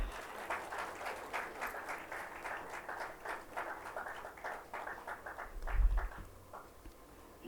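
An audience at a student literature festival inauguration claps steadily, a moderate, even patter of many hands that thins out toward the end, with a low thump midway.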